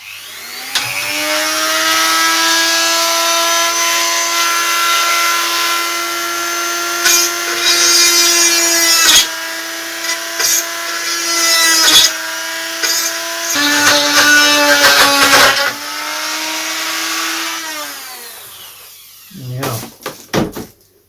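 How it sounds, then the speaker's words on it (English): A power drill whines steadily and loudly through thin plywood, about 1 mm thick, for long stretches, pausing briefly between holes, with a few knocks near the end. "I'm just going to drill around the periphery"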